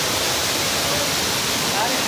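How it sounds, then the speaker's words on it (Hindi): A mountain waterfall near a cave roars as a dense, steady broadband rush with no breaks. "वाटरफॉल से कोई पहाड़ से निकला हुआ पानी है।"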